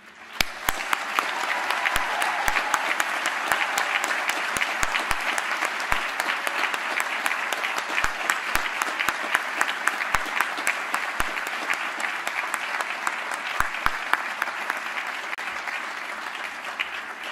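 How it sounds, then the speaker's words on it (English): Sustained, steady applause from a large audience at a university conferring ceremony for the Faculty of Applied Sciences & Technology, an even wash of many hands clapping for about seventeen seconds, with a few louder individual claps standing out. "join me in a round of applause to congratulate you"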